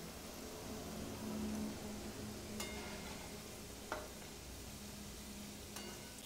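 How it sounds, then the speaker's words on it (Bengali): Thekua, a sugar-free Chhath Puja sweet, fries in oil over a low gas flame, giving a soft, steady sizzle close by with a few faint clinks of utensils. "গ্যাসটা সিম করে রেখে ঠেকুয়াগুলো ভেজে নিতে হবে।"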